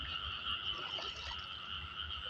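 Dense chorus of frogs croaking continuously from nearby water at night, a steady layered trilling with no voices.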